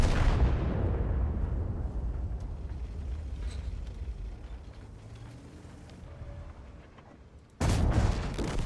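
A heavy tank cannon blast booms loudly in World of Tanks, its deep rumble slowly decaying over several seconds before a second sharp, powerful shot erupts near the end.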